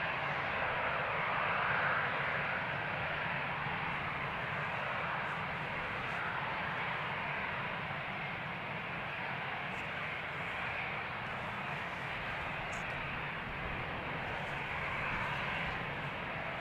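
A 16-year-old Boeing 747 departing runway 36L at Amsterdam Schiphol holds a steady, distant engine roar that stays even and moderately quiet throughout, with no voices.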